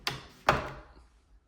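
A laundry room door in a brand-new Clayton prefab model home swings shut, giving two crisp knocking thuds close together and then a short, fading rattle in a quiet indoor room.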